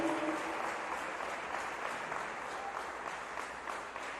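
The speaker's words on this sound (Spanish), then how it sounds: "denle ese aplauso fuerte a este Dios" A church congregation applauds in a steady, dense wash of clapping that carries on without a break, moderately loud, with no voices standing out.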